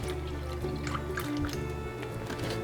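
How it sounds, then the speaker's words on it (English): Milk is poured into Swedish pancake batter in a bowl, giving a steady, soft, close liquid trickle and splash that runs without pause under a faint background hum. "I'm gonna add another cup of milk,"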